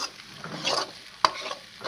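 Finely chopped carrot, cabbage, beans, capsicum, onion, curry leaves, coriander and mint fry in a pan for an egg fried semiya, giving a soft close sizzle with a sharp utensil scrape partway through.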